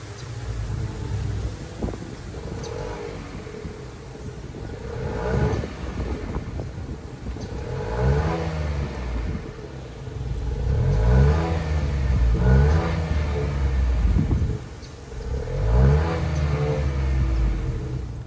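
A 2023 Nissan Rogue Platinum AWD with a 1.5-liter turbocharged three-cylinder engine runs and revs in light rain, several throttle blips rising and falling over a steady idle, heard close by with wind noise on the microphone.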